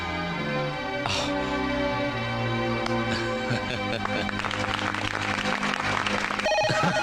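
A telephone ringtone sounds over dense background film music in a Hindi drama scene, a steady melodic ring that continues throughout at moderate volume, with a brief voice near the end.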